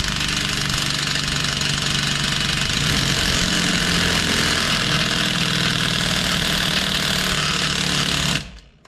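A tool tightened down to press out a pitman arm during a front end rebuild on a 1999–2007 truck, giving a loud continuous hammering, rattling drive that runs unbroken and then cuts off abruptly at the end.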